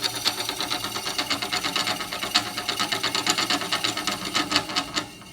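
A small demonstration electric motor spins fast, making a rapid, rhythmic buzzing and rattling close by that pulses steadily for several seconds.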